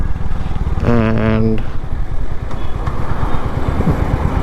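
A Royal Enfield Hunter 350 motorcycle rumbles steadily and loudly while being ridden, with a short voice heard over the engine early on.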